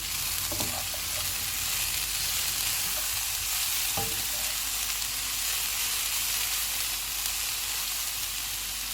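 Green onions and vegetables for chicken BBQ rice are stirred in a frying pan. A continuous sizzle runs throughout, broken by a couple of utensil scrapes early on and near the middle, with no talking.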